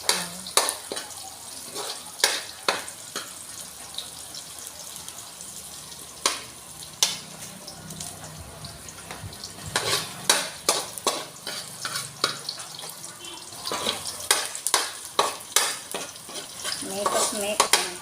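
Onion frying in a pan for a shrimp dish, a soft steady sizzle punctuated by many sharp spatula clacks and scrapes against the metal, close and irregular, with no talking.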